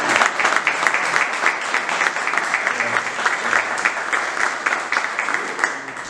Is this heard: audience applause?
yes